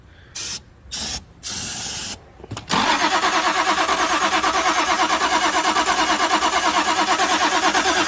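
Toyota Supra engine, sitting unused for 27 years, cranking over steadily and loudly with a rapid rhythmic churn, preceded by several short hissing spray bursts.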